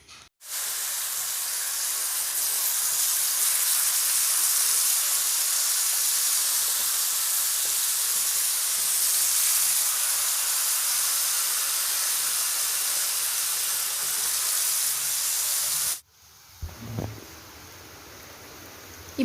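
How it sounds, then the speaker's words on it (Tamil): Raw banana slices frying on a tawa give a loud, steady broadband sizzle that holds for about sixteen seconds, then cuts off abruptly, leaving faint thuds and handling noise. "மீதி இருக்க வாழைக்காயும் தவாவில் போட்டு ஃப்ரை பண்ணி வச்சுக்கலாங்க"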